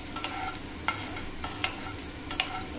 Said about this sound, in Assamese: তেলখিনি গৰম হোৱাৰ পিছত তাত দিম জালুক আৰু কাটি থোৱা নহৰুখিনি।